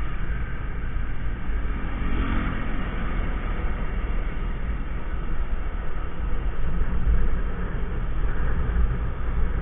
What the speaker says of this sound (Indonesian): masih banyak kendaraan yang lalu-lalang di jalanan daerah sini